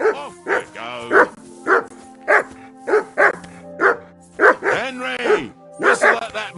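A hound from the medieval role-playing game Kingdom Come: Deliverance 2 barks insistently up close, a dozen or so sharp woofs in a fairly regular pattern, some doubled, with quiet ambient noise underneath.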